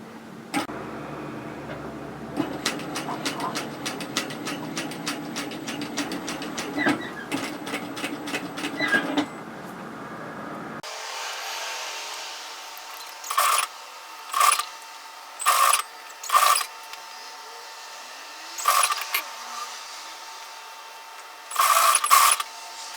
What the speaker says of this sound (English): I'm just going to sew that at foot width